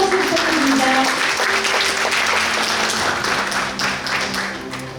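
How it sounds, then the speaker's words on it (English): A seminar audience at a Tenstorrent AI hardware event claps to welcome a speaker onto the stage, sustained full applause close by that tapers slightly toward the end, with faint music tones running beneath. "여러분 다시 한번 큰 박수 부탁드립니다."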